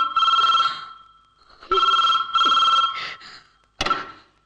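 A telephone bell rings in repeated bursts with short silences between, clear and close, with no talk over it.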